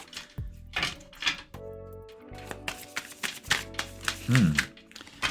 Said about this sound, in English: Once I'm done shuffling this is a new deck